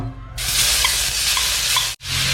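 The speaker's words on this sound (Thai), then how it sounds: "คั่วพริกคั่วกระเทียมให้หอมนะครับ" Pounded chili, garlic and black pepper hit a little hot oil over low heat, setting off a loud, dense, close sizzle that cuts out sharply for a moment before resuming.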